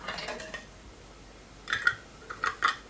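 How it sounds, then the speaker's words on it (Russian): A lid goes onto a glass jar of marinated cucumbers with a few sharp metallic clicks and clinks, clustered in quick pairs near the end after a quieter stretch. "И закрываю крышкой."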